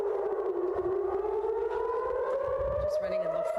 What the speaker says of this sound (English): I just got a siren in the middle of the street.